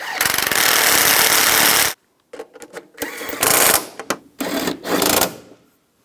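A power tool tightens the front strut bolts on a 2004–2009 Toyota Prius, one long loud rattling burst followed by several shorter stuttering bursts with gaps between them.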